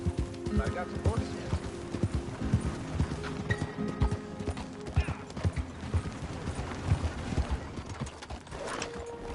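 Horse hooves clip-clop in a steady trotting rhythm through a video game's outdoor scene, with whinnies and game character voices talking over the footfalls at moderate loudness.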